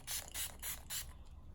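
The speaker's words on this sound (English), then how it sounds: "I'm just using the Wet n Wild Photo Focus Cucumber setting spray" Four quick bursts of Wet n Wild Photo Focus cucumber setting spray from a pump bottle, evenly spaced and fairly close, with a faint mechanical click at each press, then quiet.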